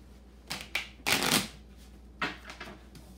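A deck of playing cards shuffled by hand in a few quick riffling bursts, close and crisp, with a longer flurry in the middle and no talking.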